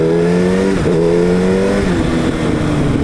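A Yamaha FZ1-N motorcycle fitted with a Storm Oval exhaust is blipped at idle: a loud, close engine note whose pitch dips and rises in quick throttle revs over a steady rumble, with no talk.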